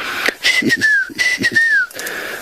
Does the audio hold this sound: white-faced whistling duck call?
yes